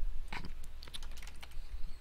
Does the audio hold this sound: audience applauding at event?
no